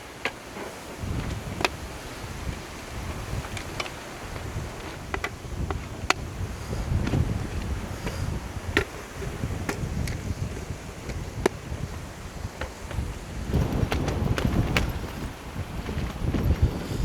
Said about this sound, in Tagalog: Lakas ng hangin eh.